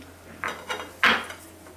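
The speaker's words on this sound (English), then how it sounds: "I'm going to gradually add the curd. I'm going to start mixing it in." A spoon scraping and knocking in a bowl while curd is mixed into whole wheat flour for bun dough, three short clinks and scrapes, close and fairly quiet.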